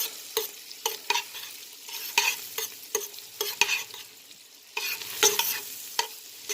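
Onion caramelizes in a pan with a crackling sizzle, punctuated by regular stirring strokes roughly every half second, close and moderately loud with no voices.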